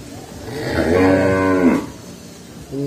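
A bull of the French cream breed on a Ben Tre cattle farm gives one long, loud, close moo of about a second, followed by quieter farmyard sound.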